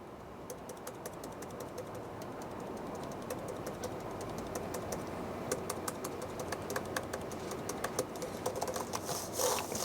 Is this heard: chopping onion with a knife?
no